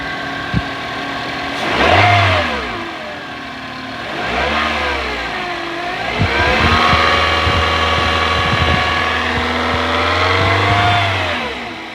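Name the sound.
Toyota Corolla engine revving with loud noise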